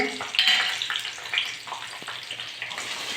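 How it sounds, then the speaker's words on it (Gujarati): Garlic, chilli and ginger go into hot oil for paneer Hyderabadi and crackle with a loud, bubbly sizzle that eases off over a few seconds, close up, with no talking. "તેલ ગરમ કર્યા પછી અંદર લસણ મરચાં આદુ"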